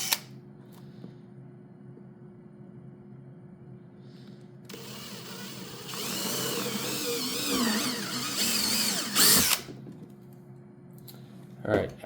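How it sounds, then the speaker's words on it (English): A power drill with a 1/4 inch bit whirs up and bores holes for a few seconds, its pitch shifting under load, framed by quieter stretches and clicks. "drill those holes out"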